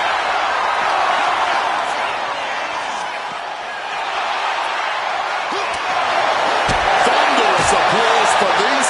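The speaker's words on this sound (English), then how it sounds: "Thunderous applause for these competitors." A WWE 2K26 wrestling arena crowd roars and applauds, a broad, steady wash of crowd noise that swells near the end. A commentator's voice speaks over it.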